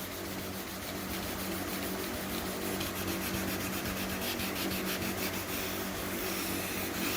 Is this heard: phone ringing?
no